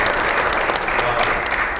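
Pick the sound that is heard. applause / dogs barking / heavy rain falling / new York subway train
applause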